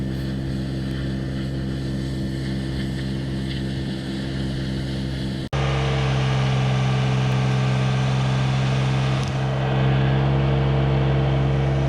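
Engine of a John Deere 755, a 20-horsepower compact utility tractor, pulling timber logs: a steady droning motor hum that shifts abruptly to a louder, higher-loaded tone midway and stays strong to the end, no talk.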